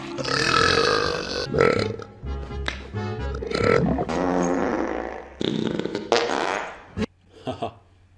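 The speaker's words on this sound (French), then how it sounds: "Le gros chien qui pète." A big dog in a Scooby-Doo film lets out loud, drawn-out farts and burp-like blasts in several bursts, separated by short gaps, with cartoonish vocal noises and some talk mixed in.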